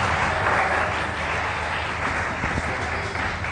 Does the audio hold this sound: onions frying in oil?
no